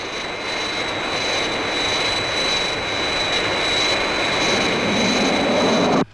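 Fireflash aircraft from Thunderbirds roars steadily on final approach, a loud, continuous jet engine drone with a high whine on top that holds evenly, then cuts off abruptly at the end.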